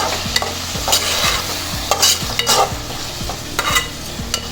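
Dry fish thokku with potatoes fries in a pan, a steady sizzle under repeated scraping strokes of a spoon stirring and mixing, close and continuous.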